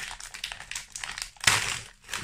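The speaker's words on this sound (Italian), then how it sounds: "Questa è la mystery bag, l'apriamo insieme." A plastic mystery bag is crinkled and then ripped open by hand in one loud, close tearing burst about halfway through, preceded by softer rustling of the packaging.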